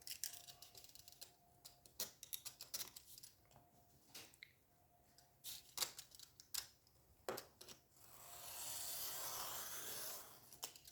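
Paper being cut along a ruler for a handmade album cover, quiet repeated snips and scraping taps, ending in a longer rasping rub.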